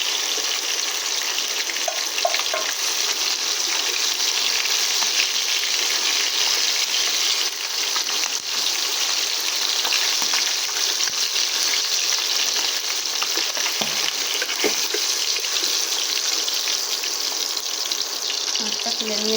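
Fish frying in hot oil in a kadai for a drumstick fish curry, a loud continuous crackling sizzle that stays steady throughout with occasional small clinks and spatters.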